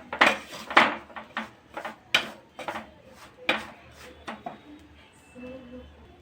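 A utensil stirs flattened rice and peanuts in a pan for avalakki laddu, making irregular metallic clinks and scrapes, some sharp and loud, others soft, in a quiet kitchen.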